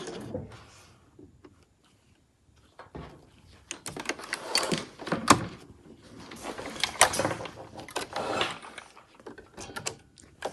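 A sewing machine basting together the layers of a fabric backpack, with bursts of close mechanical stitching clatter broken by short pauses.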